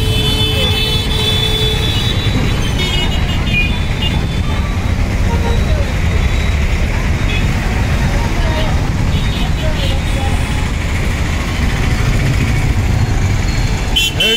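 Busy evening road traffic at Tenali market point, a constant dense roar of motorcycles, cars and buses idling and passing close by, with horns and voices mixed into the steady din.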